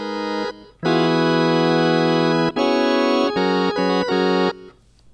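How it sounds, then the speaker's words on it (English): An organ patch in Bitwig Studio plays sustained chords, each held for a moment before shifting to the next, bright and full with no other sounds. "the organ sounds like this when you initially load up the patch"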